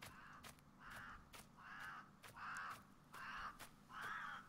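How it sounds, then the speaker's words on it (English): Crows cawing in a natural outdoor setting in the video game Rising World, a series of about six harsh caws repeating at a steady pace over a faint ambient bed, with no talking. "Lots of different kinds of birds singing or squawking or whatever you want to call it."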